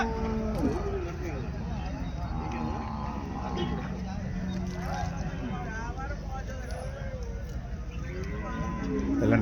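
Cattle and bulls mooing repeatedly at a busy livestock market, several drawn-out calls near and farther off over crowd chatter and someone talking.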